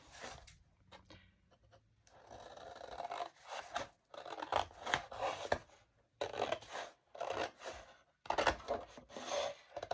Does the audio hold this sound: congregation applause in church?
no